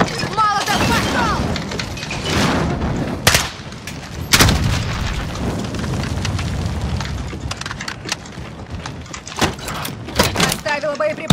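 Gunfire in the video game Call of Duty Warzone, in a zombie battle royale match: sharp shots and heavy booms crack out at scattered moments over a constant rumbling battle din, with voices faintly in the mix.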